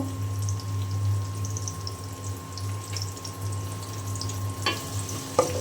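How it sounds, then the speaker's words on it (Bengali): Polao rice frying in hot oil in a pot gives a steady, close sizzle over a low hum, with a couple of sharp clinks near the end. "এই তেলের মধ্যেই আমি চালটা ভেজে নেব"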